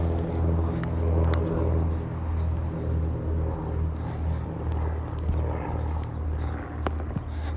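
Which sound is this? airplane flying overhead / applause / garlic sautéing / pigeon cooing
airplane flying overhead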